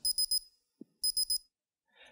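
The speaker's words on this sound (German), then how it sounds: "ab einer Wassertemperatur von 41 Grad werden Sie umgehend durch die aufleuchtende LED und einen Alarmton gewarnt" A bath and shower thermometer's high electronic beeping alarm, triggered at 41 °C water temperature, sounds in two bursts of three quick beeps, separated by a short pause, clear and close.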